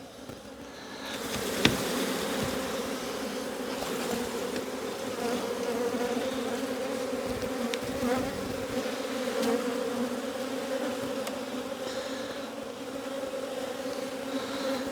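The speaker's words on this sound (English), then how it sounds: "Very angry bees today." A dense, steady drone of many angry honey bees buzzing close by at an opened hive during a box swap, agitated and continuous, with occasional individual bees zipping past.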